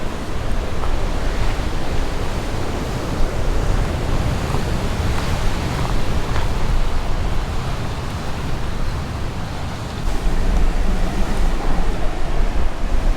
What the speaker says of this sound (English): The ocean is pushing in, slowly taking over the beach.